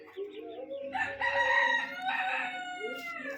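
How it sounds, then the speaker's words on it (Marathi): A farmyard rooster crows near a cattle shed in a Konkan village in Raigad, one long, loud, harmonic call that rises and holds before trailing off, with no one speaking over it. "आवाज बघा कोंबडा"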